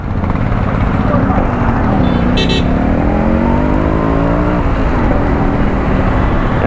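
A Yamaha RX100 two-stroke motorcycle engine runs loud and close throughout, with rising and falling revs like a rider on the road, while someone talks over it.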